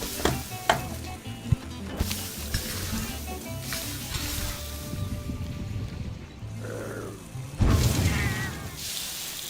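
A Palico cat cooking a meal in Monster Hunter World, with close sizzling and frying, clatters and cartoonish cooking sounds, a few sharp hits and a loud burst near the end, all under background game music.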